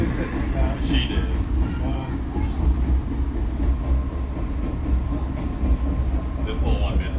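Open-air car on an Indiana tourist train ride, a steady low rumble with rattling wheels and wind rushing past throughout, voices faintly mixed in.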